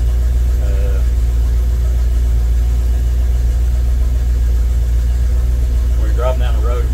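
A loud, steady low truck engine rumble at idle with an on-board York air compressor running, a constant drone and mechanical hum; a brief voice-like murmur near the end.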